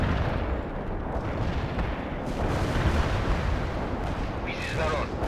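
Heavy artillery barrage in World In Conflict, a dense, loud rumble of overlapping blasts and booms filling the whole stretch, with a radio voice speaking over it.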